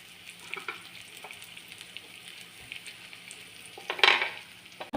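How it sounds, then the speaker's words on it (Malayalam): Chopped onion being sautéed with salt and turmeric powder for chicken sausage, a low steady sizzle with scattered stirring scrapes and a louder clatter of utensil on pan near the end, close up and without voices. "ഉപ്പും മഞ്ഞൾപ്പൊടിയും കൂടെ ഇട്ട് നമ്മളിത് ഒന്ന് വഴറ്റിയെടുക്കാം"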